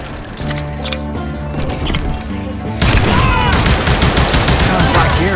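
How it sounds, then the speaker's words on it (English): Gunfire in the Western shooter game Call of Juarez: Gunslinger, a loud rattle of shots that swells into a dense, rapid fusillade with booming reports. "Sounds like Garrett hired a whole regiment of hired guns"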